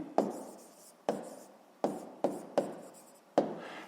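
Six sharp pen or chalk strokes tap and scrape in an irregular rhythm while a maths solution for surface area is written out, close and quiet with no voices.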